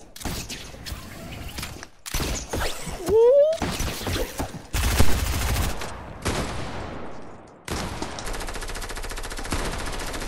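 Submachine gun fire in a video game, rapid close bursts of automatic shots in several separate volleys with brief gaps, sharp and loud, mixed with impact and shatter sounds.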